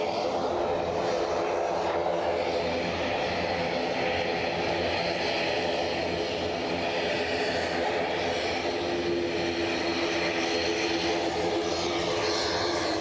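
An ATR turboprop airliner drones steadily and loudly with a dense propeller hum and engine roar that holds throughout.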